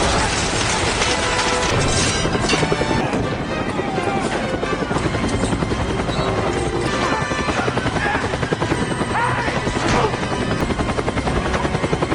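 Loud, continuous helicopter rotor thumping and engine roar fill the scene as the helicopter crashes, with crashing impacts and some voices mixed in.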